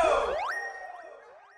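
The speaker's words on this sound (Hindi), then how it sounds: "क्या रिंगटोन है?" Mobile phone ringtone in a household scene: a short electronic chime with bright sweeping tones that rise, then fade away over about a second and a half, with no voices.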